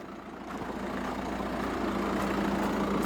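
A 1.6 liter turbo diesel four-cylinder car engine idles with a steady low hum and a faint clatter, rising slightly in level and holding even throughout, with no talk.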